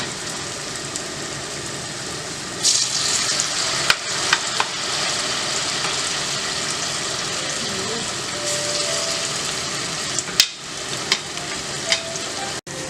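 Banana fritters (pazham pori) frying in a pan of hot oil, giving a steady, close bubbling sizzle throughout with brief clinks and stirring noises, and no talk.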